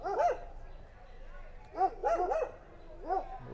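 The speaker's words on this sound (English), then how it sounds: "there's some sort of guard dogs here." Guard dogs held in an enclosure near an outdoor function area in Vietnam bark in several short bursts at moderate distance, with a brief spoken exclamation from a nearby man.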